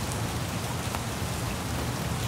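A loud rain sound effect plays as a steady, dense hiss of falling rain that spans the whole spectrum, with no pauses and no voices.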